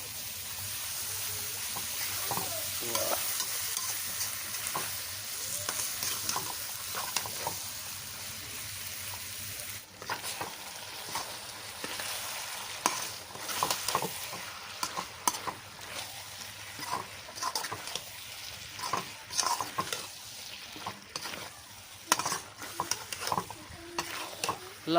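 Chicken pota with spices and yogurt fries in a pan, giving a low steady sizzle. Frequent scraping stirs and clatters grow busier over about 25 seconds, with no voices.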